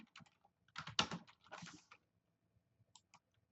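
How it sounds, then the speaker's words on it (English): Quick bursts of keystrokes as text is typed on a computer keyboard, clustered clicks in the first two seconds followed by a few sparse taps, close and fairly quiet with no talk. "first thing we're going to do is type out our text"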